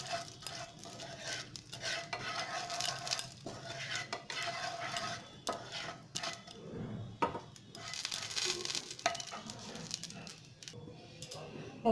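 A spoon scrapes and stirs Radhaballavi filling with asafoetida in mustard oil in a pan, in soft, irregular strokes over a faint sizzle, quiet and close.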